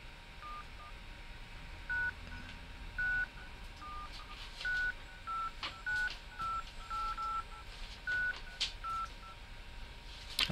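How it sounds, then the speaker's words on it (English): An intercom system's telephone keypad beeps out a phone number as a series of about a dozen short DTMF tones in an uneven rhythm, clear over a low background hiss. "enter the phone number, start with 1 and the number key."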